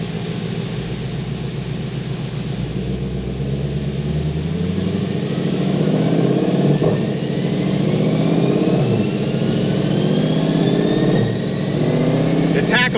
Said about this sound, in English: I'm not used to revving so high.